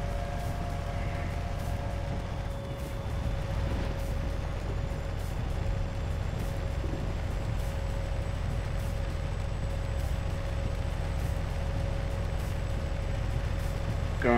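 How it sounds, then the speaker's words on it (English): Truck engine in American Truck Simulator labouring up a small hill at night, a steady, loud low drone with a faint whine holding throughout, no speech. "hear the engine struggling a bit"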